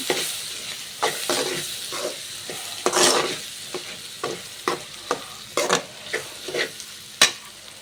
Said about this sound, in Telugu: ఒక హాఫ్ టేబుల్ స్పూన్ కారం, వేసి చక్కగా ఒకసారి కలిపి